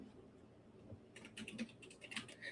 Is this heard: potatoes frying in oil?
no